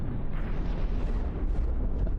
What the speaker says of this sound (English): Oh, poor Cataclysm. All these radar-guided missiles.